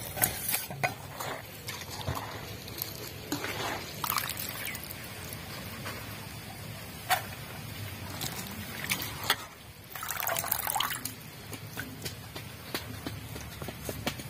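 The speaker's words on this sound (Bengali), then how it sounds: "এখন জল দিয়ে ধুয়ে নেব।" Chopped cabbage is washed in water, with stirring, splashing and sloshing sounds and occasional clinks of a pot or bowl, at close range with no talk.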